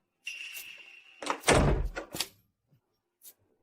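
A door slams shut indoors with a sharp, heavy thud preceded by a brief whistle-like tone, followed by a faint knock, close and loud with no speech.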